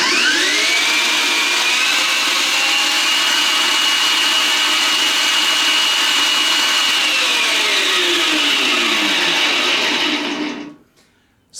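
A homemade six-speed electric dirt bike motor whines loud and steady, its pitch climbing as it spins up, holding high for several seconds, then winding down and cutting off near the end.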